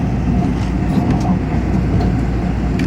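A passenger train pulling into a station on Taiwan's mostly single-track line makes a steady, heavy low rumble with faint squeals and clicks, loud and continuous from inside the carriage.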